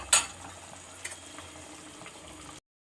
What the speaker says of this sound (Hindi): अब इसको हम अच्छी तरीके से भूनेंगे।